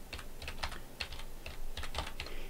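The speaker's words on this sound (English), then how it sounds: "go to the site I'm going to type in" Quick, irregular clatter of keys on a computer keyboard as a web address is typed, close and clear with no talking over it.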